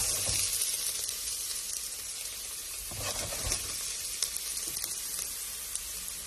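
Garlic sizzles steadily in hot oil for a pasta sauce, a continuous bright crackling hiss with a few louder pops and spatters along the way, no voices.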